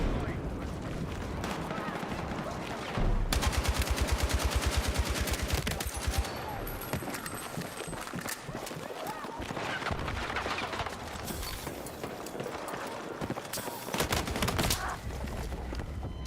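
Rapid automatic RPK machine gun fire in Battlefield 6 infantry combat, sustained bursts and scattered gunshots amid a dense battlefield mix, with people talking over it.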